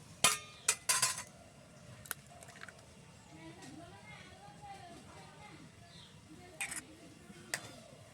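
An egg is cracked against a bowl and dropped into a spiced poha mixture with chopped coriander. Sharp, close clinks come in a quick cluster, followed by softer scattered clinks of the bowl.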